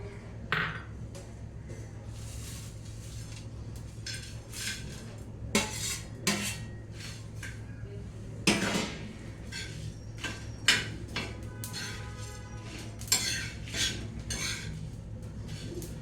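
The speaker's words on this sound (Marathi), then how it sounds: "हे सगळे काही मसाले भाजताना हलवतच राहायला पाहिजे" Spices including coriander and fennel dry-roast in a pan while being stirred, with intermittent metallic clinks and scrapes of a utensil against the pan over a steady low hum, fairly quiet and spread throughout.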